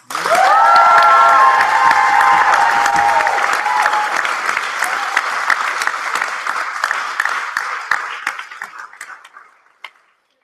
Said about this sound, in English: just give another round of applause to our fantastic pro-secretaries who were Owen and Matthew